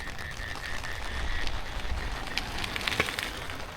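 Rain falls steadily outdoors in a soft, diffuse patter, with a few sharper drops and crackles standing out near the end.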